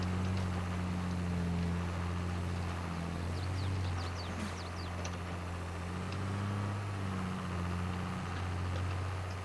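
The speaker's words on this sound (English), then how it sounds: "that's why you're hearing the tractor bog down then" A tractor engine in Farming Simulator 22 hums low and steady, its pitch sagging and recovering as it bogs down under load, with faint clicks above the drone and no talk.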